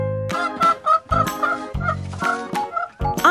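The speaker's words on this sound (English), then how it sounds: "H is for hen." A hen clucking as a sound effect in a children's alphabet song, several short loud clucks and squawks in quick bursts across a few seconds, with no voice over them.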